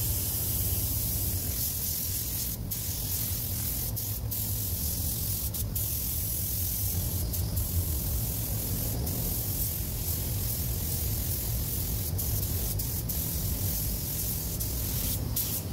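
Spray gun painting over body filler on a car door, a steady loud hiss of atomized spray running continuously, broken by a few brief pauses between passes.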